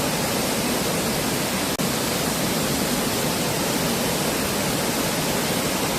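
Waterfall near Seoul beside a grassy woodland path, a steady, dense roar of falling water close by, unbroken for the whole stretch apart from one brief click.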